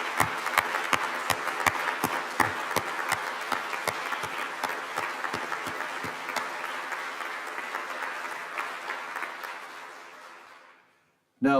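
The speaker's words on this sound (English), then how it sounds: "please stand as we applaud your commitment and dedication." Applause at an honors convocation: sharp, distinct claps from a modest audience, steady at first, then thinning and fading to silence near the end, followed by a brief sound.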